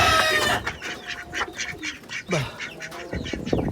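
Several ducks on a rooftop on a rainy morning quack in quick, irregular bursts, fairly close and loud, with some softer honking calls mixed in and no talking.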